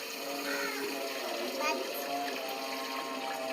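Water running from a pipe and splashing in an outdoor home setting, a steady gushing stream with light splatter under a child's and adults' voices talking.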